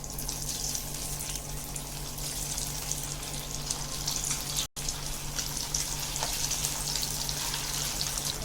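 Poha snack frying in hot oil in a pan over medium heat gives a steady, bright sizzle that carries on evenly with one very brief dropout, close by and without talk.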